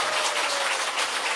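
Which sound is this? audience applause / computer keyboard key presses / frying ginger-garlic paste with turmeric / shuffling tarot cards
audience applause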